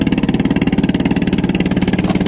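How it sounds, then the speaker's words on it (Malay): A loud, close engine throbs in a fast, steady pulsing rhythm, like a motorboat passing by while fishing, with no voices. "Ini ada bot-bot lewat juga nih"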